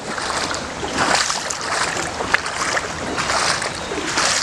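Feet splashing and wading through water in a park, with a continuous broadband swish and churn and repeated bursts of sloshing, heard up close.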